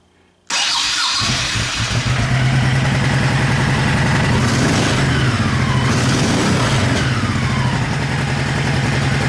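Honda Shadow Spirit 1100 motorcycle engine cranking and firing up with the choke on after silence, then settling into a loud, steady, rumbling idle with slight revving.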